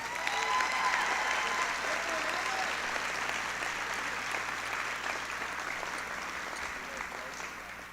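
A high school class night audience applauds the valedictorian with sustained clapping from a large crowd that fills the hall evenly and fades only slightly toward the end.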